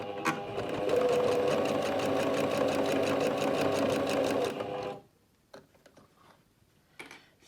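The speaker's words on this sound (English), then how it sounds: "I'm just going to sew 1/4 inch seam allowance down and round and up the other side" A sewing machine runs steadily for about five seconds, stitching a quarter-inch seam around three sides of a cloth storage bag for sanitary pads, then stops, leaving a few faint handling clicks.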